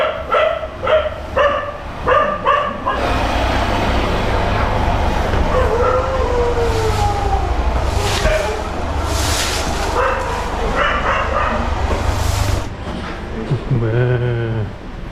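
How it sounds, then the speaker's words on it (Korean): Street dogs in Varanasi, India bark in quick repeated yaps at first, then a loud, dense mix of street noise and overlapping calls, with more barking and whimpering near the end. "쓰레기 퍼먹는 개들."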